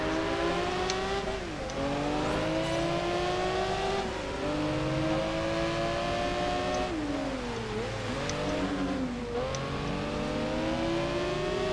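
A sports car engine roars and revs repeatedly in Project Gotham Racing 4, pitch rising and falling through gear changes, with occasional tire squeals.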